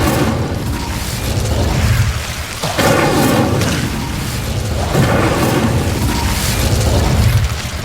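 Incendio fire spell cast in Hogwarts Legacy against Devil's Snare in a dark passage, a loud roaring, crackling burst of flame with deep booming rumbles that pulse repeatedly for several seconds.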